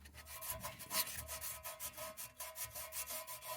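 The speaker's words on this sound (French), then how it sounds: "je gratte un petit peu là autour du collecteur d'échappement pour enlever un peu la merde qu'il y a" Grime being scraped from around a car's exhaust manifold, a close, quiet, rhythmic rasping in quick repeated strokes with no voices.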